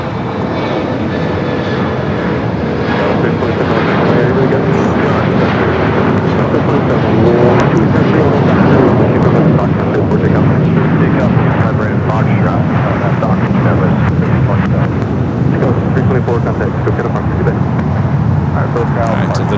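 An Air France jet, flight 20 from Paris, arrives at LAX, its loud, broad rumble swelling and holding steady for nearly twenty seconds, with a voice talking over it.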